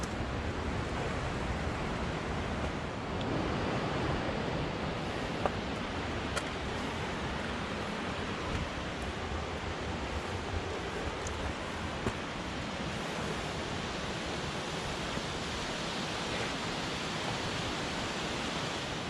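A waterfall in a desert, water pouring down slick rock, heard as a steady, continuous broadband rush that holds evenly for the whole stretch with no talk over it.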